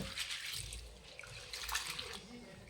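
Wheat grains are rubbed by hand in a basin of water, giving close sloshing and splashing with bursts of trickling water throughout.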